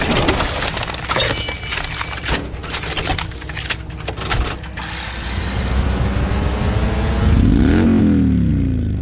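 An Indian motorcycle's air-cooled Thunderstroke V-twin starts with clicking and mechanical clatter, then blips and revs, the engine note rising into a deep, swelling roar near the end.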